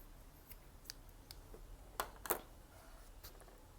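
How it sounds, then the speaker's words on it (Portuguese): Scissors snipping through crochet fabric yarn while finishing a tray, a few quiet, sharp clicks and snips spaced out over a faint background, with a couple of closely grouped cuts near the middle. "vamos cortar o fio para finalizar"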